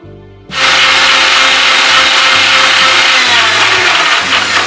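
An electric mixer grinder jar whipping eggs for a banana sponge cake starts abruptly after a short quiet moment, then runs as a loud, steady whirring roar without letting up.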